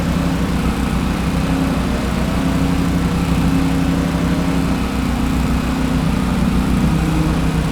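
A lawn mower cutting grass during property mowing runs loud and close with a constant droning engine hum, continuous and steady throughout, with no talk over it.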